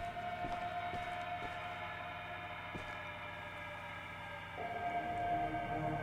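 Steady droning train-horn tones with a low mechanical rumble from a train in the video game Choo Choo Charles, sustained throughout with slight shifts in pitch and no talking.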